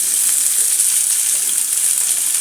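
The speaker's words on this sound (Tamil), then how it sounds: "சீரகம் புரிஞ்சாச்சு இப்போ வந்து என்ன பண்ணாலும் நம்ம கொஞ்சம் வெங்காயத்தை வதக்கிடுவோம்" Onions fried with cumin in hot oil make a bright, steady, hissing sizzle, loud and close without pause or talk.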